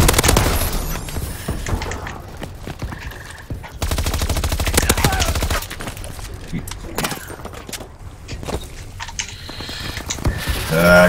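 A SAC3 gun fires in a video game in rapid automatic bursts, with mechanical clatter and shifting in-game noise between the volleys, all under a player talking.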